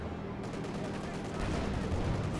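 Dense, continuous gunfire from Company of Heroes 2, with rapid machine-gun bursts and heavier shots packed together, loud and steady throughout and building slightly toward the end.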